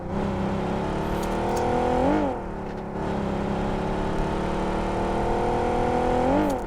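Car engine in the video game PUBG Mobile, a steady loud droning whine with a brief revving dip around gear changes, continuous and close with no talk.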